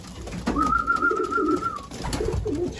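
A racing pigeon coos in its loft, one sustained warbling call lasting over a second, followed by softer low rumbling coos, close and clear against faint background noise.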